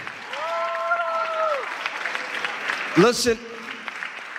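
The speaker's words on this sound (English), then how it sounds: "can we give all of our wonderful speakers a big hand clap?" An audience at an interfaith conference applauds its speakers, a broad steady clapping that runs through the whole stretch beneath someone speaking into a microphone.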